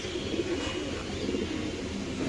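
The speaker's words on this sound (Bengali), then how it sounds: "মাশাআল্লাহ জমা ডিম সহ দর্শক দেখেন কালো ডেনিশ কবুতর" Black Danish pigeons kept in a loft with their eggs coo softly in a continuous murmur, close by over a dense background hum.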